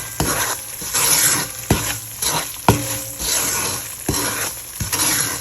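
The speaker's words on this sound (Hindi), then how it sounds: "सूजी को हल्का हल्का हमें भूनना है" Fine semolina stirred and dry-roasted in a heavy-bottomed pan for halwa, with repeated scraping strokes of the spoon at an irregular rhythm over a soft, continuous sizzle, close and moderately loud.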